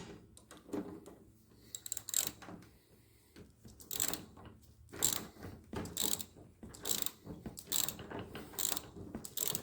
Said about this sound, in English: Put a wrench on to hold the top.